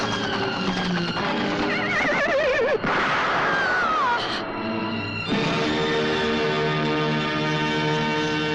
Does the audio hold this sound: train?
no